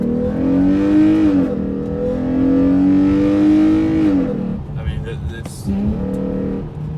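A car engine revs in smooth, rising and falling swells as the gas pedal is lightly feathered, with a sustained drone that briefly eases near the end. Speech runs over it.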